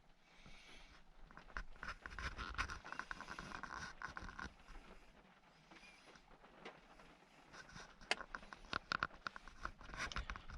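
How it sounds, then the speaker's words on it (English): Soft, irregular patter of rain on a tent's thin fabric overhead, steady and close, with occasional sharper taps and rustling movement nearby. "I've been waiting for the rain to stop. And it's still raining."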